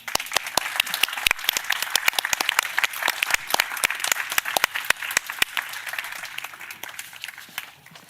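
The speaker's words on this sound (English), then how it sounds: "A warm applause for this panel." Audience applause for a panel at a Brussels conference on an inclusive European Research Area, a dense, steady burst of many hands clapping with sharp individual claps standing out, sustained loud for most of the span before thinning slightly at the end.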